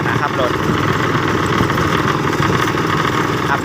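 A tractor engine idles with a continuous, even rumble, loud and close, while a person talks over it.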